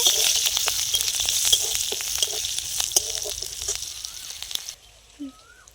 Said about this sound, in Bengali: আমি এতে শুধু 5 ফোড়ন সম্ভারা দেবো। সেরা কাঁচা লঙ্কা দিয়ে দিয়েছি।